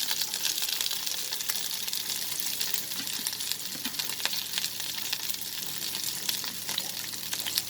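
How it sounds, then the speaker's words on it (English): Chopped garlic and chicken pieces sizzle and fry steadily in a pan, with a dense crackling hiss and occasional stirring scrapes, close and continuous, with no talking. "Now I'm going to add the chopped garlic."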